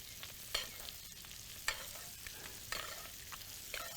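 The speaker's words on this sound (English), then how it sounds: "Spreading even heat on both sides of the fish, although it's frying from one side" Fish frying in a pan in a Finnish home kitchen gives a steady crackling sizzle, with a few sharper bursts of spatter roughly once a second as it is stirred or moved, close and without talk.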